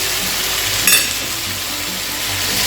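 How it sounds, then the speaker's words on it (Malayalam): Ginger-garlic paste frying in hot oil in a pan for a Kerala chicken stew, a steady close sizzle throughout with a brief louder spit near the first second, no talk. "പിന്നെ ഞാൻ ഇഞ്ചിയും വെളുത്തുള്ളിയും അതങ്ങ് പേസ്റ്റാക്കി അത് ഇട്ട്"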